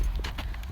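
A 22-year-old retired horse spooked by a coyote makes a quick flurry of several close, dull hoof thuds on the ground in under a second, with faint outdoor background noise.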